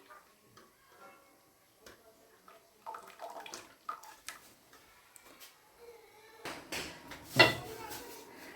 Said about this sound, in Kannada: ದೊಣ್ಣೆಲಿ ತಿರುಗ್ತಾಯಿದ್ದೀನಿ.